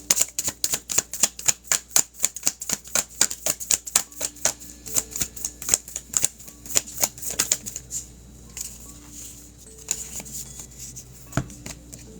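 Tarot cards being shuffled by hand: a quick run of crisp, rhythmic riffling snaps, close and clear, that loosens into sparser taps and slides during the second half.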